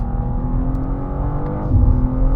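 A BMW M2 (G87) sports car engine drones steadily at close range while accelerating through the gears, its low rumble swelling slightly as it pulls harder near the end.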